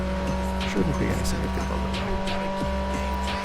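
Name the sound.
car tire burnout squeal in a racing video game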